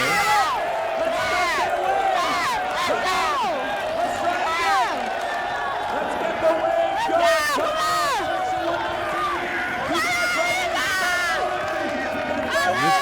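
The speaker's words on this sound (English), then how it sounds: "And this crowd does respond." Stadium crowd roaring and cheering at a Lingerie Football League game, Chicago Bliss versus Philadelphia Passion, a dense continuous wall of voices with shouts rising and falling throughout.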